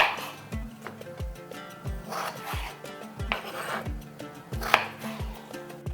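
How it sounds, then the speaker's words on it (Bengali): A knife slices a medium-sized potato lengthwise on a board, making a regular run of about nine crisp chopping knocks roughly every half second, close up with faint scraping between cuts. "এইভাবে লম্বা করে বড় রেখে কেটে নিয়েছি"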